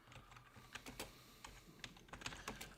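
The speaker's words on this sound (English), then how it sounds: "Sorry, just finished typing." Quiet typing on a computer keyboard, a close run of irregular light key clicks and taps with short gaps, no talking.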